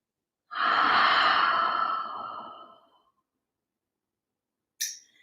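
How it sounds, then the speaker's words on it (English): A single long, slow breath out during a vinyasa yoga session, loud and close with a soft airy rush that fades over about two seconds, followed by a brief sharp intake of air after a pause of silence. "Let's breathe a couple more breaths."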